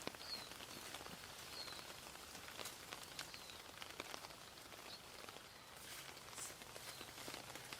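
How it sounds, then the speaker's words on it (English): Rain patters steadily on a tarp outdoors, a faint dense hiss broken by scattered sharper drips throughout. "So, it is raining enough that I'm definitely going to use the picnic rug as in poncho mode"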